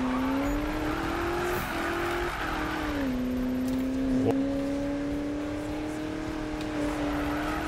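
A car in Need for Speed 2015 holds a long drift, its engine droning steadily with a slowly shifting pitch and a faint tire hiss, loud and continuous with no talk.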